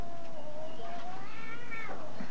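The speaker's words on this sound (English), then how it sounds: "That's the cat making all the noise, isn't it?" A cat being held in a headlock and handled lets out a drawn-out, wavering meow, fairly close and loud, rising and falling in pitch over a couple of seconds.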